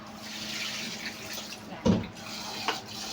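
Water runs from a tap into a pot to measure it for cooking rice in a home kitchen, a soft steady trickle with a brief splash and a light knock.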